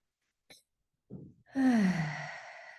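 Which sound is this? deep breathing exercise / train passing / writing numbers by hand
deep breathing exercise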